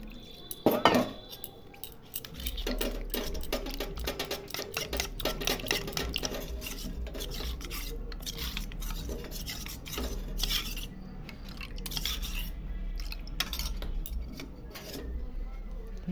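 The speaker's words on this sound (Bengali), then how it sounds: "এখন একটু কর্নফ্লাওয়ার গুলিয়ে দিব, জল দিয়ে একটু গুলিয়ে দেবো কর্নফ্লাওয়ারটা" Cornflour mixed with water being stirred for a chicken soup, a steady run of spoon scraping and clinking against a bowl with faint kitchen background, no talking.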